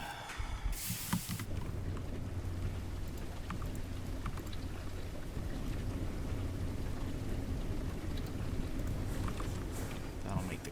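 Steady rain falls in a Minecraft world running the Gregtech modpack, a continuous soft hiss with faint pattering at moderate level. A brief bright splash comes near the start, and there is no speech.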